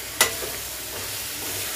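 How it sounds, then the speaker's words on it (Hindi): Chicken frying in cooked onion, tomato and chilli masala for kadai chicken, opening with a sharp clatter as it goes in, then a steady close sizzle with light stirring, no talking. "अब डालूंगी मैं चिकन। चिकन को खूब फ्राई होने दूंगी।"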